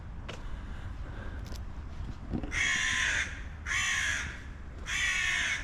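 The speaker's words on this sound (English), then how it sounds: "there's a nasty crow crowing away" A crow caws outdoors in a summer garden in Maribor, Slovenia, giving three loud, harsh calls in a row over quiet background ambience.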